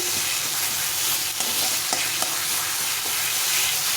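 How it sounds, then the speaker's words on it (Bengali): Mashed taro is stir-fried in a pan, giving a steady crackling sizzle with regular scraping spatula strokes throughout. "এটাকে ভালো করে এখন কষিয়ে নিতে হবে"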